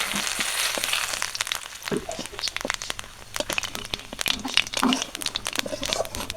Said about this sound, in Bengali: প্রথমে দিয়ে দেব দুটো শুকনো লঙ্কা, জিরে, তেজপাতা